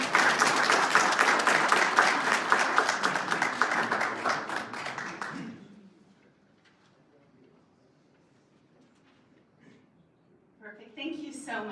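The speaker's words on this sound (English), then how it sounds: "let's give them a round of applause" An audience applauds scholarship winners at a morning school partnership event, with strong clapping for about five seconds before it fades to a quiet room and a voice resumes.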